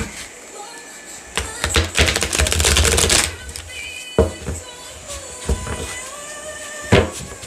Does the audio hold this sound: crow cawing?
no